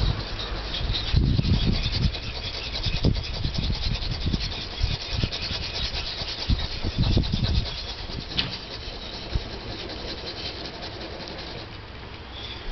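Steady rhythmic scraping strokes of a blade on a wet whetstone lubricated with spit, repeated many times at close range, continuing alone for several seconds.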